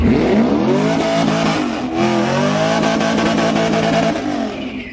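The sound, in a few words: Mercedes-AMG car racing on a track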